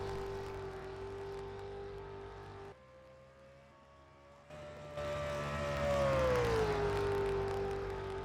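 A stock car races around Daytona in the NR2003 racing sim, its engine holding a steady drone, dropping briefly, then swelling louder and sweeping down in pitch as it comes off the turn; no talk.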